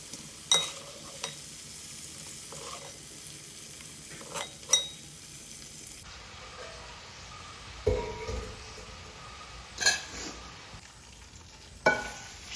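Masala-coated chicken frying in oil for a large batch of chicken biryani, a soft continuous sizzle broken by several sharp clinks of a utensil against the pan.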